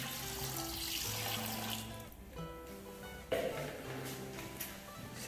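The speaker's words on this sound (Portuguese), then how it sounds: "Agora eu vou colocar a água, ó, em cima. 300 ml de água" Water pours steadily from a container into wall paint, a soft continuous rushing splash that holds for several seconds with a brief bump partway through, close and moderately quiet, with no talking.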